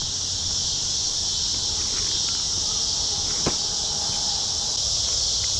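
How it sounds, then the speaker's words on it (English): Dense, high-pitched insect buzzing fills the air nonstop at a constant level, with a faint brief tap partway through. "the cicadas are everywhere, and they're making all kinds of crazy noise"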